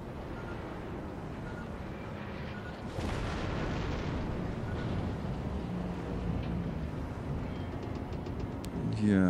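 Naval shell impacts and armour-piercing gunfire in the World of Warships game, with a sustained, dense roar of booms and rumbling after the first few seconds and a sharp burst near the end.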